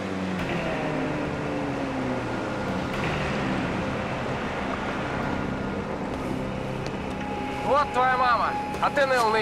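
A motorboat engine drones steadily on the water in a Russian drama series, a low continuous rumble with wind noise, up close and fairly loud, while voices talk briefly near the end.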